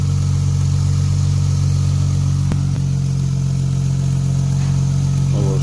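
A Lexus GS300 fitted with a turbo and wastegate idles steadily just after starting, a loud, constant engine hum that never rises or fades and carries no talk.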